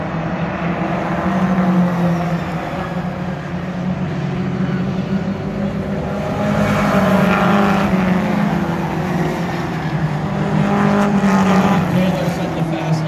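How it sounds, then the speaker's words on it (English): Stock cars circle Wiscasset Speedway at about 77 mph, their engines droning steadily throughout with swells as cars pass near, under a continuous track roar, with a commentator's voice faintly mixed in. "These kids hustling around the track at 77 miles per hour"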